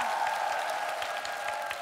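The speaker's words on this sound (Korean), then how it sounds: "두 분께 큰 힘이 되는 박수 부탁드리겠습니다." Studio audience applause on a Korean TV music show, steady crisp clapping from a crowd sustained at an even level for the whole short stretch.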